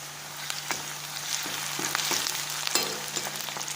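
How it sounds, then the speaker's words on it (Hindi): Sliced onions fry in oil in a home kitchen pan, giving a quiet, steady sizzle with occasional sharper crackles and spatula stirs close by. "प्याज तेल में अभी तक फ्राई हो रहे हैं"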